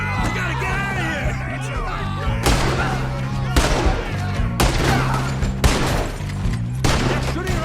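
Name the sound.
gunfire in video game Red Dead Redemption 2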